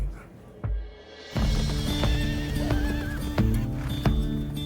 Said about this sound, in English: Mustang horses are going to become extinct if we don't save them